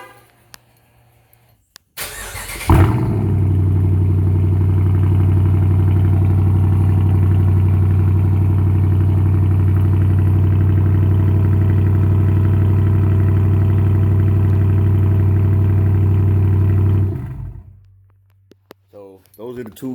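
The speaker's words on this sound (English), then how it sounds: "Here's a cold start for you guys just in case you want to hear that too." A Dodge Charger Daytona 5.7 with a big five-inch exhaust cold starts up close, cranking briefly, then settling into a loud, steady, deep idle rumble that holds for about fifteen seconds before the engine shuts off.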